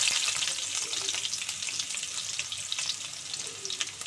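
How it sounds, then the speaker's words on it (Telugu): Mustard and other tempering seeds with chopped onions fry in about a spoon and a half of oil for a brinjal-tomato curry, giving a steady close hiss with faint crackles and no voices. "దీంట్లోకి తాలింపు గింజలు అయితే వేసుకున్నాం, పోపు గింజలు, నెక్స్ట్ ఉల్లిపాయలు"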